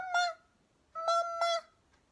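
A young gosling voices high, tonal peeping calls in two bursts, a short one then a longer doubled call, close and clear with no talk.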